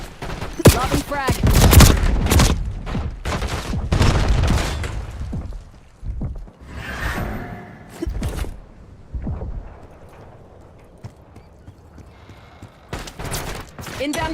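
Video game firefight with rapid bursts of gunfire and booming grenade explosions, loud and dense at first, then thinning into scattered shots and blasts, with occasional voices over the action.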